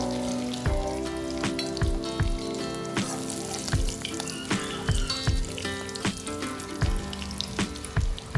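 Eggs frying in a pan for a Tamil egg fry, a steady close sizzle with scattered sharp pops and clicks of utensils, no voices.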